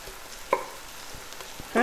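Chicken cooking in a pan for a grilled chicken salad, a low steady sizzle with a couple of sharp clinks or scrapes, close and fairly quiet with no talking.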